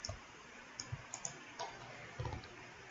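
A computer mouse gives a few soft, separate clicks, quiet and close, with long pauses between them, during work on a Revit energy analysis model.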